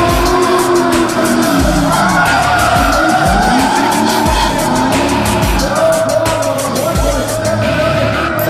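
A drift car slides at a Red Bull drifting event, tires squealing in long sweeping bursts over a loud, revving engine, with repeated skids close by and a crowd faintly behind.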